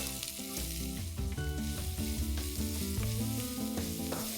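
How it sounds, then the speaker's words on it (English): Bay leaves, cloves and finely chopped onion sizzling in hot oil for a winter soup, a dense, even hiss that runs steadily throughout at close range with no talk. "once the oil heats, we are going to add 2 bay leaves, 3 cloves, 1 finely chopped onion"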